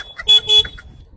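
A vehicle horn gives two short, loud honks close by, one after the other, in a brief burst at a petrol pump.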